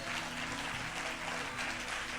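A church congregation at a Sunday service in Ajmer claps together in a dense, steady burst of applause that stays even and moderately loud throughout, with no voices rising above it.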